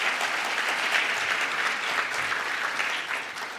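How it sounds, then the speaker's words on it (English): A round of applause at an official banknote and coin launch event honouring a central bank official; a crowd claps steadily and densely at moderate volume, tapering slightly near the end. "Let's give her a round of applause."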